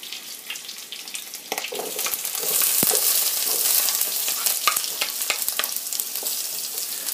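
A turkey neck and onions frying in a stick of butter for gravy give a close, crackling sizzle with sharp pops and spits that grows fuller midway and continues steadily, with no one talking.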